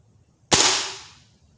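A single .177 magnum air rifle shot cracks out sharp and loud, then its report decays over about half a second, standing alone against a quiet background.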